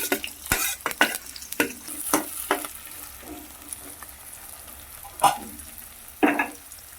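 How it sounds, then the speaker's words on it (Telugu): Onion pieces and green chillies frying in a pan for a prawn and gongura curry, with a bright sizzle under repeated sharp scrapes and taps of a stirring spoon, close and without voices. "ఇప్పుడు దీంట్లో ఉల్లిపాయ ముక్కలు ఇంకా పచ్చిమిర్చి యాడ్ చేసేసుకుందాము"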